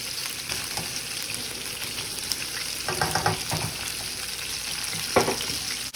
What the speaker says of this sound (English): We're gonna make a little stir fry noodles.